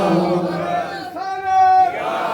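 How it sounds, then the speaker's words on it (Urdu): A crowd at a religious gathering celebrating the birth of Hazrat Ali shouts a slogan in response, a loud massed voiced cry that swells and holds for under a second after a leader's call. "جب علی کا نعرہ لگے تو اپنے سے باہر ہو کے نعرے کا جواب دیا"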